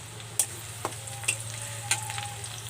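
Onions frying in a pressure cooker for pulao give a soft, steady sizzle broken by a few sharp clinks of a spoon stirring against the pot.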